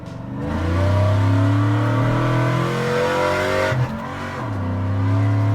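A cammed, built 6.2-liter Chevy Avalanche V8 on 24-inch wheels blips its revs to match a downshift, a loud, close, lumpy engine drone that climbs, drops off briefly, then settles back into a low rumble.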